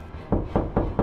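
Knocking on a door in a tense horror setting: three firm, evenly spaced raps land close and clear after a short quiet lead-in, with no voices.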